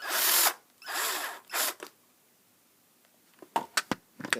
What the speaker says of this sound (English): Just going to use my drill.